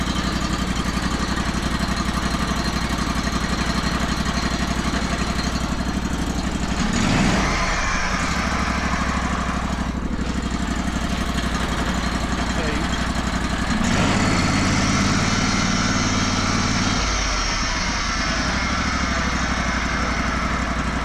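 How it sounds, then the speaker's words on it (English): A Honda engine idles on a Hardwood Mill GT34 sawmill, a steady close-up drone running alone for about twenty seconds with a couple of brief surges in the middle. "That's a Honda. Not bad, eh? Let it idle for a minute."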